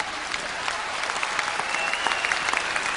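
Audience at a music awards ceremony in Armenia applauding, dense steady clapping that fills the room, loud and continuous with scattered sharper claps standing out.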